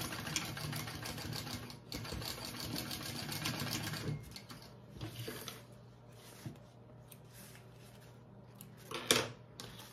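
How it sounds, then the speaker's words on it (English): A sewing machine stitches and bastes fabric bag pieces together, running in steady bursts with brief pauses between runs, close and moderately loud, with no talking. "All right, so I'm gonna sew that one on first again"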